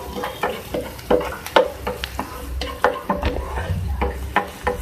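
Chopped onion sizzles steadily in oil while a utensil repeatedly stirs and scrapes the pan, with sharp clinks spaced irregularly over a constant frying hiss.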